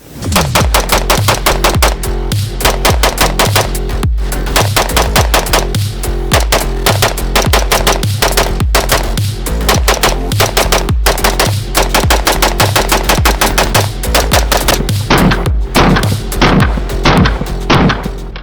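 A CMMG Dissent MK47 rifle in 7.62x39 fires long, loud, rapid strings of shots, with sharp booming reports and almost no gaps between them.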